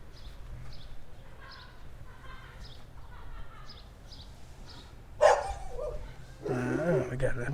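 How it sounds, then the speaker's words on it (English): Dogs bark in a short, fairly loud burst outdoors late on, following a stretch of faint chirping birds, with no talk over them. "We got some dogs."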